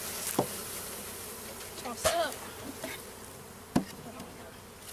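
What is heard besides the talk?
honeybees buzzing during bee package install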